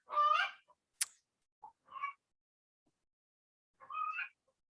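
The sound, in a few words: chickens making noise outside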